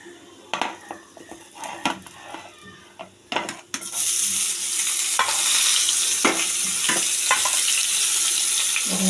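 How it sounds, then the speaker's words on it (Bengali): Onion fries in hot oil with cumin, cardamom, cinnamon and cloves for a duck egg and cauliflower curry. Several spatula scrapes and clinks come first, then a loud, continuous sizzle takes over and stays close and steady. "এখানে পেঁয়াজটা ভেজে নিচ্ছি ওই তেলেই, জিরা টিরা ফোড়ন দিয়ে ভেজে নিচ্ছি"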